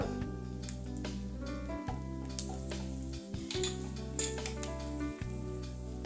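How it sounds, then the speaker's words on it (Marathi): Turmeric with ground coriander, fennel powder and asafoetida sautéing in a pan for a moong dal kachori filling, giving a steady close sizzle with occasional clinks of stirring, and no talk. "हळद थोडं परतून घेते दहा वीस सेकंद"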